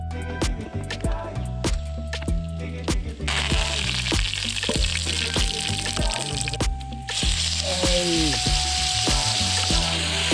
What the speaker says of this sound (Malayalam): അപ്പോൾ നമ്മൾ ഫ്രൈയിങ്ങിൻ്റെ ഫസ്റ്റ് സെക്ഷൻ തുടങ്ങിയിട്ടുണ്ട്